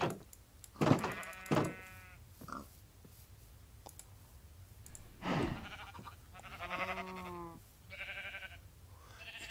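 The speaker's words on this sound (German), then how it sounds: "Hier ein Schaf." Sheep in Minecraft bleat in several short, wavering calls spread through the clip, mixed with clicking game sounds and quiet stretches in between.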